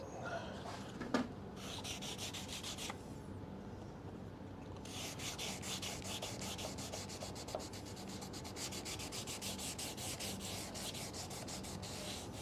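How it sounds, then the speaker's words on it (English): Rhythmic rubbing strokes of wet sanding car paint with a pad in a tight space come in bursts, pausing briefly before resuming steadily and close by. "If you are wet sanding this for polishing, be careful with corners like this"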